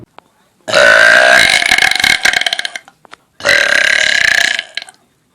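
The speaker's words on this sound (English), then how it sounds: "guys feel like they can't compete with my belching" A loud, drawn-out burp after drinking Coke, followed by a second long belch after a short pause, both close, raspy and forceful with no talking.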